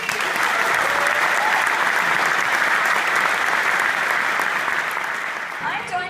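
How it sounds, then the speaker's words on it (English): An audience at a European Outdoor Film Tour screening gives sustained, loud applause, a dense wash of clapping that holds steady for several seconds before thinning slightly at the end. "a big applause for Tom"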